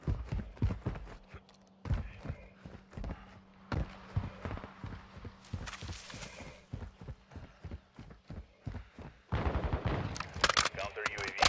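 Pistol shots in Call of Duty: Modern Warfare 2, a rapid string of sharp, close cracks with brief pauses, ending in a denser, louder burst of fire.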